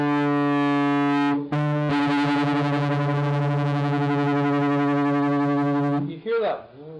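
Two slightly out-of-tune guitar strings ringing together, producing a steady tone with a slow pulsing wobble of beats, heavily distorted through the microphone, sustaining for about four seconds after a brief pluck before cutting off.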